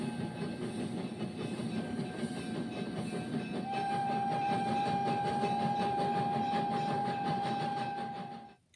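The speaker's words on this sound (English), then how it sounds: "This is a train." Recorded train sound effect played back through a Google Home smart speaker: a steady rumbling run of rail cars with rhythmic clacking and a sustained whistle-like tone, loud throughout before cutting off at the end.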